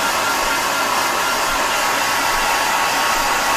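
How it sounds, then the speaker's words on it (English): A Smart Temp blow dryer runs steadily while drying a Persian kitten, giving a loud, continuous airy whoosh that holds at the same level throughout with no voices. "I recommend the Smart Temp blow dryer because you can pick the temperature"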